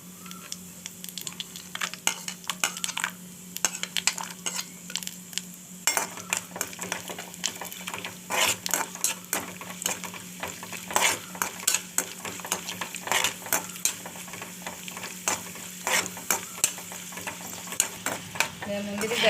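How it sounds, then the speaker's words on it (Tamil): Cashews and raisins fry in hot ghee in a kadai on low heat, a continuous light sizzle broken by frequent sharp scrapes and clinks of a spoon stirring against the pan. "நெய் காஞ்சி தான் முந்திரி திராட்சை வறுத்து எடுக்கணும்."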